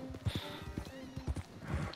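Horse hooves clip-clop in uneven, fairly close thuds in the video game Horse Go Hop, with a voice talking over the steps.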